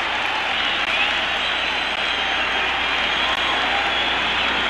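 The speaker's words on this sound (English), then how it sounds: "the tremendous ovation here at a capacity crowd at the Boston Garden continues for young number four" A capacity hockey crowd at the Boston Garden gives a sustained roaring ovation, loud dense applause and cheering filling the whole stretch while a commentator talks over it.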